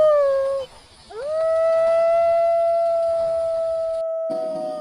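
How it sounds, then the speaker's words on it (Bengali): A long, wavering jackal howl rises and holds steady, sounding distant and mournful, with a second howl swelling after a brief pause. "শুধু দূরে শিয়ালের ডাক"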